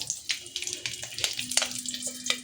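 Green chillies drop into hot oil in a kadhai and sizzle with sharp, crackling spits and pops in uneven bursts, close and fairly loud.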